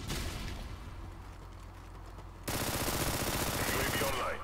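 Rapid automatic gunfire from Call of Duty: Modern Warfare 3 on the Wii in an online match, a continuous burst of shots that steps up sharply louder partway through and stays dense to the end.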